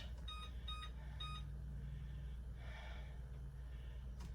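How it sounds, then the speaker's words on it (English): A kitchen timer being set for pumpkin pie gives three quick, faint electronic beeps at the start, followed by a low steady room hum. "I'm going to set the timer for 40 minutes and I'll keep checked on it."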